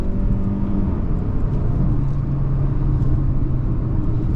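A 2026 Mazda 3 GX's engine drones steadily under hard acceleration from inside the cabin, a low rumbling whir with a sustained engine tone and no talk.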